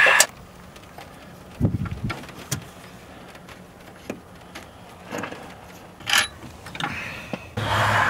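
Wrench turning alternator bolts by hand on a 1996-2003 Ford F150, faint metallic clicks and scattered short knocks spread sparsely over quiet pauses, with a couple of louder clunks.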